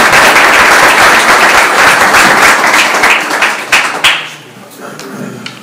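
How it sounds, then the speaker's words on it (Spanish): Audience applause for a guest speaker at a Holy Week iconography lecture, a dense burst of clapping that tapers off after about four seconds into quiet room noise. "os pido un aplauso para José Alberto Fernández"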